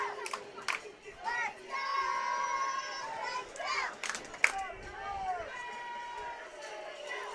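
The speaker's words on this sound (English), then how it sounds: "You hear the little kids, future cheerleaders of the Cee-Bees, doing some crowd noise here for us." Little kids at a high school football game between Clay-Battelle and Hundred making crowd noise, with scattered childish shouts and cheers rising and falling, a sharp yell near the middle, and a commentator's voice speaking over them.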